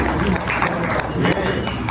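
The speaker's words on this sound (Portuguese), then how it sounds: "salve de palmas" Audience applause at a Maracanaú municipal culture committee event, a dense, steady wash of clapping from many hands across the whole moment with a few louder bursts.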